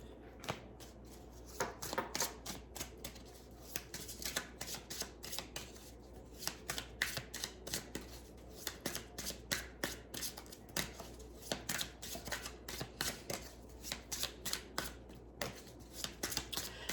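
Tarot cards are shuffled continuously with a steady run of crisp riffling and flicking sounds, close and fairly loud, with no one talking over them.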